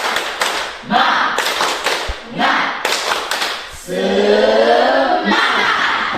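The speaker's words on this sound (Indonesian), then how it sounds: "Tepuk semangat." A classroom of students performs a rhythmic group clap, close and loud, in patterned bursts of claps and taps broken by short pauses, with voices chanting along between the beats.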